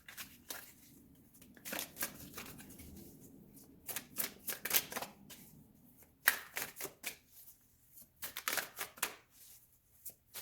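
A deck of playing cards is shuffled in repeated bursts of crisp riffling and snapping, fairly close and alone with no talking.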